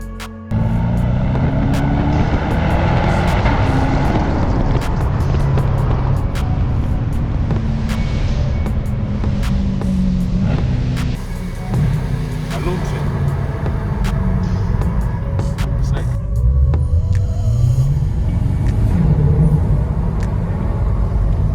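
A Corvette sports car drives over an Italian mountain pass, with a steady, loud engine rumble and road roar throughout the clip and no talking.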